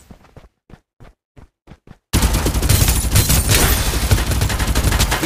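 Gunfire in Farlight 84: a few soft, sparse taps at first, then a sudden loud burst of rapid automatic fire that keeps hammering close and dense to the end.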